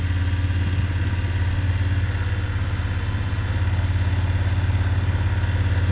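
A motorcycle engine at low speed during a slow left-hand U-turn at about 6 mph holds a steady, close, mid-pitched rumble with light clatter, unchanging over several seconds and no talking.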